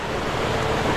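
Waterfall water rushes in a steady, broad roar, loud and continuous with no pauses.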